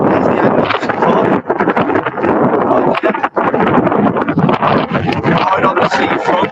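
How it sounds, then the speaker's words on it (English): Strong wind buffets the microphone on the seafront at Caernarfon Bay, a loud continuous roar with gusty surges that swamps everything else. "I'll go somewhere a bit quieter because it's very windy."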